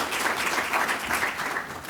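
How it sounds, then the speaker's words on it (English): Audience applause for a panel of authors at a Comic-Con discussion, a steady dense wash of clapping from a large crowd lasting the whole moment without pause. "And a round of applause for our panelists."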